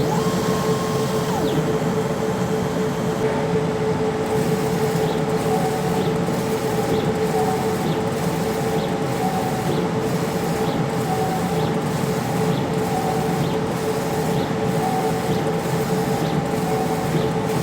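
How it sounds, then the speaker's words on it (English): Direct-to-film (DTF) printer heads shuttling back and forth while printing color and white layers, a constant motor whine and hum with regular swishing passes of the carriage, loud and close, without speech. "So the back head's printing the colors, and then as it comes forward, the white head is going to put white over the top."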